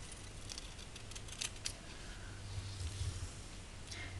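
Scissors snipping around a piece of craft material beside wire, soft clustered cuts and rustles at a low level against quiet room hiss.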